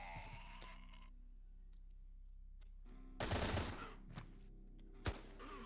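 A turret in the video game Quasimorph fires a short, loud burst of rapid automatic shots, then a single sharp shot follows a moment later against a quiet background.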